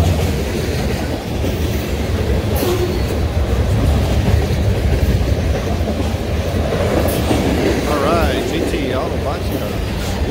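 A CN freight train rolls past close by with big auto parts boxcars, a steady loud rumble and clatter of wheels on rail throughout, with brief higher squeals near the end and people talking underneath.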